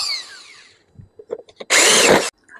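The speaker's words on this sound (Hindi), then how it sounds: "ये स्क्रू में लगा के इसको जल्दी से फिट कर देता हूँ" A power drill drives screws to fit a drawer lock: a few short, light taps and clicks, then one loud buzzing burst of the driver lasting about half a second, close by with no talking.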